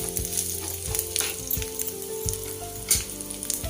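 Cumin seeds fry for tomato dal, a close, continuous crackling sizzle with rhythmic stirring taps of a spoon against the pan, no talking.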